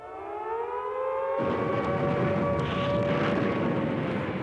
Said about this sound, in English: they did when the air raid sirens sounded